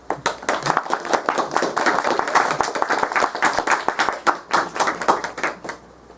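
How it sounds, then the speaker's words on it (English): A small group clapping together after a guided meditation session, the claps close and fairly loud, coming in uneven bursts with a steady pulse across the whole stretch before fading at the end. "So let's give a big clap for us."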